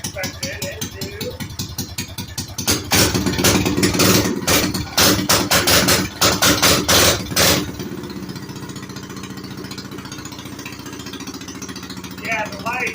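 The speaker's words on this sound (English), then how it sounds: "Because this pipe really does sound nice. I love the sound of this pipe." Coleman 196cc minibike engine with a custom exhaust pipe running close by, loud steady idle thumping broken by several sharp revs in the middle, then settling back to a steady idle.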